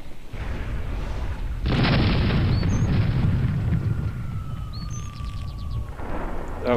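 Cannon fire in the airship game Air Buccaneers: a heavy, booming blast swells into a sustained roar lasting several seconds, with a whistling projectile streak and faint bird-like chirps above.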